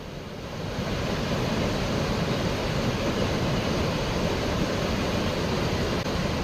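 The Dev river, swollen and flowing bank to bank after continuous rain, gives a loud, unbroken broadband roar of rushing water with no voices.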